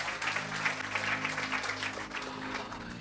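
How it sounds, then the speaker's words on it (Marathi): A church congregation claps in a dense, sustained burst of applause that fills the whole moment at even loudness, with faint voices mixed in. "जरा जोरदार टाळ्या प्रभूच्या गौरवासाठी"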